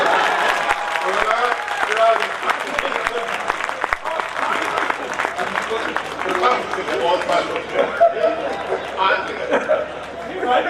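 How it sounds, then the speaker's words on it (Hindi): A crowd at a Hindi poetry gathering (kavi sammelan) in Gohana claps heartily for around ten seconds, thick applause mixed with chatter and a voice speaking over it. "आप लोग जोरदार तालियां बजाइए"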